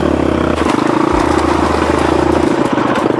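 A 500 motorcycle brought back out after two months off, its engine idling and revving loud and close with a steady low throb, briefly dipping and rising again, the sound said to resemble a duck.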